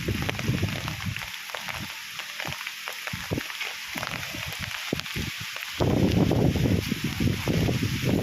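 Typhoon wind rushes through trees in a rural area during flooding, a continuous broadband roar with gusty rustling that swells louder near the end, no talk over it.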